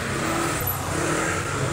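Heavy street traffic in a congested town area with KFC and Save More stores, a continuous broadband roar of passing cars and engines heard from the sidewalk, steady and moderately loud.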